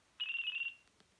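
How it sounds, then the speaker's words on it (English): Distinctive roaming ringtone from a Sanyo RL 4920 2G bar phone: a short, bright electronic warbling tone lasting about half a second, clear and alone, followed by a faint click. "but it also had for roaming a distinctive ringtone."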